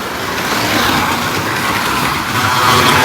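BTCC slot cars racing on a slot car track, including a Honda Civic: a loud, continuous electric whine and buzz close by, with no talking.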